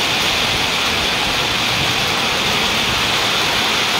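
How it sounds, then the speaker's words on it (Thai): Rain falls steadily, a dense, even hiss that stays loud and unbroken throughout with no voices. "ก็ยังมีฝนตก"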